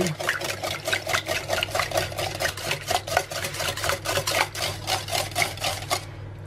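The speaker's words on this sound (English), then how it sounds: "And we'll just whisk all those eggs in." A whisk beats six eggs in a bowl for coconut flour bread, a fast, even rhythmic clatter of wire against the bowl repeating steadily close by.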